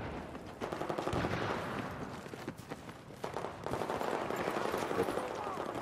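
Rapid bursts of gunfire from a multiplayer shooter video game in the Dawnbreaker map, fairly quiet and continuous with dense crackling shots and faint footsteps underneath.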